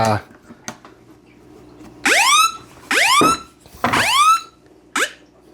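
Electronic alarm sounding in three rising whooping bursts followed by a short chirp, loud and close, with brief gaps between tones.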